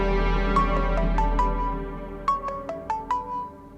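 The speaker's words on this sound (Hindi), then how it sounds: "शहीर की कॉल है।" A phone ringtone for an incoming call plays as two bursts of repeated melodic chime notes, loud and clear, with no talking over it.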